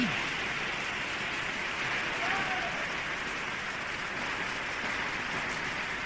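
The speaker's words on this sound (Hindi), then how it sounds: "जहां पर 1 घंटे तक तेज बारिश का दौर चलता रहा" Heavy rain pouring steadily in Nagaur for about an hour, a dense, continuous loud hiss of downpour with no breaks.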